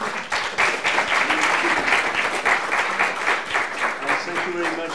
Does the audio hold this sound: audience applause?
yes